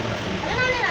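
Water splashes and pours steadily over a person's head and body during a bath, a continuous close wash with children's voices talking over it.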